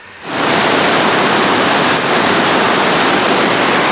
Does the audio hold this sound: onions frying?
no